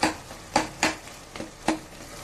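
Mashed tomatoes for gongura mutton are stirred in a pan, giving a handful of scraping, clattering strokes at an uneven pace over a low background sizzle, close and fairly loud, with no talking.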